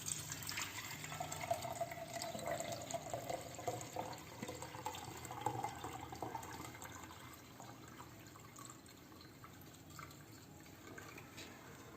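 Freshly blended lime juice runs through a strainer in a steady, close trickle of liquid that swells and eases over several seconds, with a faint wet splash and no talking.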